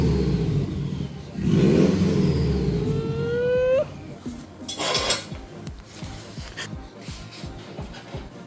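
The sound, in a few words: Subaru WRX engine revving after clutch overhaul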